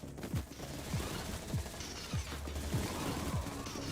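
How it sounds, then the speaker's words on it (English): Minigun fire in a Fortnite-style battle royale tournament fight, a continuous dense rattle of gunfire with sharp zipping shots repeating about every half second, loud and close throughout. "Whoa, miniguns blazing."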